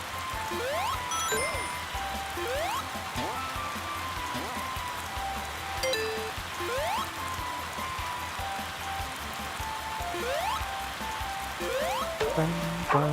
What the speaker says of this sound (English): That rain sound is so irritating.